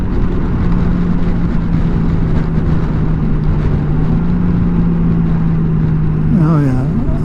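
A 2021 Honda Goldwing motorcycle rides through a corner, its engine holding a steady, close drone under rushing wind, with a rising then falling pitch sweep near the end.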